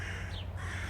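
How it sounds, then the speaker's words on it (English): Crows caw faintly in the distance outside a polytunnel on a hot day, a brief call over a steady low background hum. "we seem to have a lot of crows going on here"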